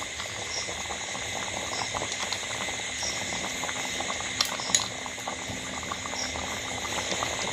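Chana masala simmers in a pot, a steady soft bubbling and popping that goes on without a break, fairly quiet and close, with no voices.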